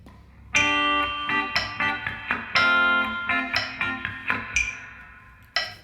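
Electric guitar plays bar three of a song, a rhythmic pattern of clean, ringing plucked notes and chords at a moderate tempo over a soft metronome click, close and clear with no talking.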